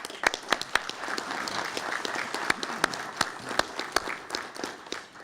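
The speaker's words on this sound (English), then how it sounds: "I want to give him a round of applause" Audience at a Lions Club awards event applauding a fire chief, a sustained patter of clapping from a room of people with several loud, sharp close claps punctuating the steady wash.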